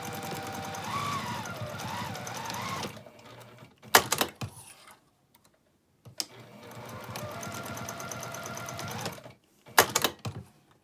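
A sewing machine stitches a quarter-inch seam on a pixie basket in two long steady runs of rapid mechanical whirring, each ending with short clicks and clatter, separated by brief quiet.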